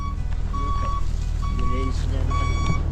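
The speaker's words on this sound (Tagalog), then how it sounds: "may naririnig na akong umaatras na truck" A truck's reversing alarm beeps at a steady pace, three or four tones, over a low engine rumble and background noise at a construction site where foundation concrete is being poured.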